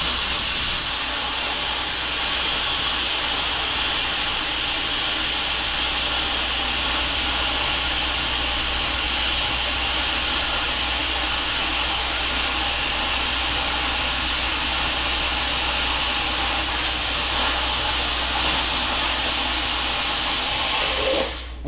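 A plasma cutter runs on compressed air through metal with a steady, loud, close hiss that holds unbroken for about twenty seconds before cutting off abruptly.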